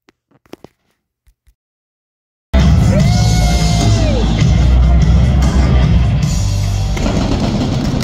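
A huge WrestleMania XL arena crowd on night one bursts into loud, sustained cheering and yelling after a couple of seconds of near silence, with a roaring wall of sound and a whistle rising through it.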